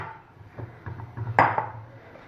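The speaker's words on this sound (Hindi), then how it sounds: "सबसे पहले हम एक कुकर में ये चने डाल देंगे।" Chickpeas for Lahori chana are tipped into a pressure cooker, giving a few light clinks and rattles of metal and a brighter clatter near the middle, close up with no talking.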